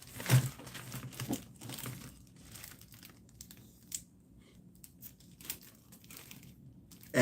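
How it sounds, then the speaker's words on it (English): A regular-size plastic bag crinkles and rustles in short bursts, close and moderately loud, louder at the start and sparser afterward, with no talk. "plastic bag."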